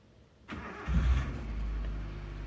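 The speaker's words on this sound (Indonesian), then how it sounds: "Kemudian langkah selanjutnya adalah kita menghidupkan mesin." A car engine cranks with a sharp onset, catches after about half a second and settles into a steady, close low idle, with no voices.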